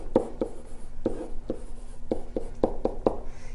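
A pen or marker writes a math expression on a board in short, quick strokes, a burst of scratchy taps with brief pauses between, close and clear.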